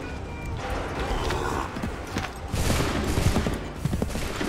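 Musket volleys in the video game Assassin's Creed III, with ragged bursts of gunfire and rumbling crowd and battle noise that swell toward the end, loud and dense, under shouted commands.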